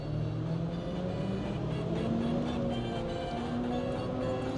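A Land Rover Discovery Td5 diesel with a skimmed cylinder head runs on a dyno, holding a steady mechanical drone with a faint rising whine. It stays constant and fairly loud throughout, with no speech.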